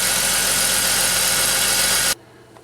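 A BMW X5 engine running steadily, with a dense, even mechanical drone at moderate loudness that cuts off abruptly near the end, leaving quiet background.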